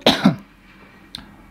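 A person coughs twice in quick succession, near and fairly loud, followed by a short pause and one small, faint catch of breath.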